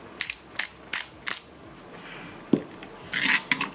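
Salt and pepper salad being tossed in a bowl: a run of sharp, close clinks and scrapes of utensils against the bowl in quick irregular bursts, with a brief thump midway and a denser flurry of tossing at the end.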